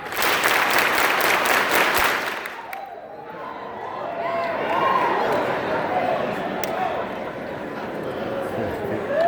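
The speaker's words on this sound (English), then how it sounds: "Clap 8 times" Audience clapping in a lively hall, a loud burst of applause for about two seconds that gives way to crowd noise and cheering voices.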